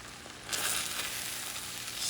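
Rice with calamari cooking in a pan, a soft steady sizzle that swells after a quiet start and holds as a faint, even hiss with no talking.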